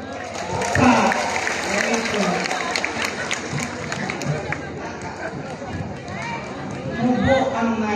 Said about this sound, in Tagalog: Bakit hindi niyo po palagpakan at hiyawan ang nag-iisa, Binibini Nicole Borromeo